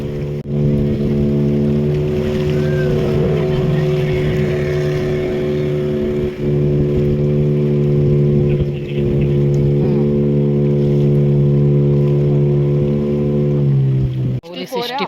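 On a sea crossing to Sindhudurg fort off Malvan, a motorboat engine drones loudly and steadily with a strong hum, and the sea washes faintly beneath it. Voices come through now and then, and the engine cuts off abruptly at the end.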